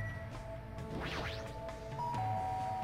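A doorbell chime sounds in the Danganronpa 2 video game, a soft two-tone electronic ding-dong over quiet background music, with no talking.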